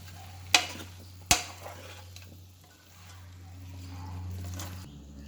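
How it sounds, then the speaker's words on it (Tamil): A spoon scrapes and stirs mutton curry with masala in a pan, with two sharp metallic knocks early on, then soft scraping and a faint sizzle under a steady low hum. "இதுக்கு சேர்த்துட்டு கொஞ்சம் நல்லா பரட்டி விட்டுக்கலாம்"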